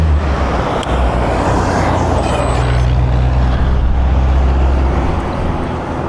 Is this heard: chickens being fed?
no